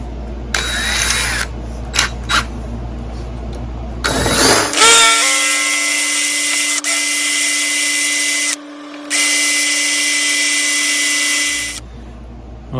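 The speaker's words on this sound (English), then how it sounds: "that drill bit's not doing too good" Power drill with a drill bit boring into a rounded-off stuck bolt, its motor whining loud and close in two long sustained runs with a brief pause between, after some lighter tool handling.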